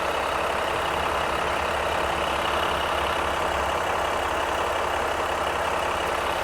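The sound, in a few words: 2020 Ram Rebel 3.0-liter EcoDiesel engine running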